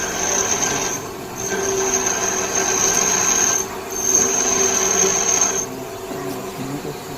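A lathe turning cutting tool being ground on a bench grinder, a steady harsh abrasive whine with a high tone that runs in two long passes, pausing briefly between them, close and fairly loud with no talking.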